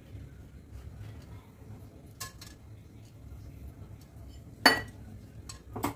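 Chopped almonds and melon seeds stirred in warm ghee in a pan, with faint soft scraping and a few sharp metallic clinks of a spoon against the pan, quiet and close.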